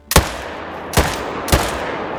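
Three loud, sharp Parry .308 rifle shots in a hunting video game, spaced about half a second to a second apart, each with a short decaying tail and no voices.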